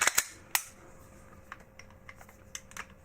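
Metal clicks and sharp snaps from the slide of a Glock 17 Gen 5 pistol being handled and taken off: a few loud clacks at the start, then quieter scattered clicks.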